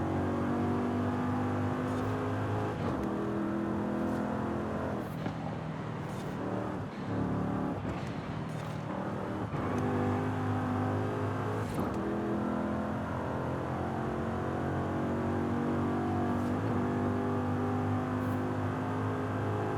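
Race cars in Forza Horizon 5 roar through an ongoing race, engines revving and shifting with harmonic whines rising and falling, punctuated by brief bursts and passing surges, close and continuous for the whole stretch without speech.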